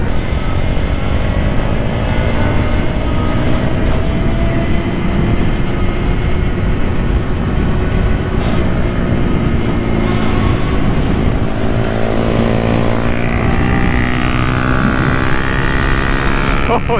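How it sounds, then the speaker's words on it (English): A small motorbike rides along a road with a loud, constant rumbling drone and heavy wind roar at close range, running unbroken throughout. "now my bike is rumbling to death again."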